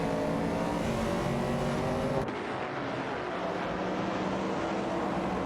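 Race cars in a video game race scream past at high revs, a loud layered engine whine from several cars that drops away abruptly partway through, leaving a softer drone.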